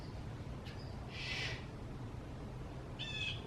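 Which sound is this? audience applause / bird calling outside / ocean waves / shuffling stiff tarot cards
bird calling outside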